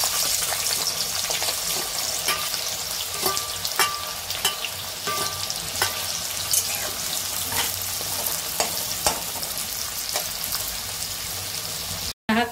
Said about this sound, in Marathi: आता हे तेल तापलेलं आहे, त्याच्यामध्ये मी हा कांदा भाजून घेते